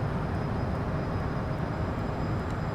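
Working Title CJ4 business jet climbing in Microsoft Flight Simulator 2020, a steady, dense engine roar with a constant high whine running through it, heard with no talking.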